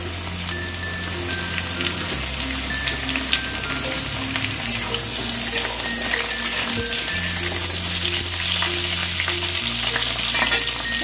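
Potatoes and bitter gourd frying together in oil in a pan, a loud, dense and steady sizzle with crackling spatters throughout, close up and without voices.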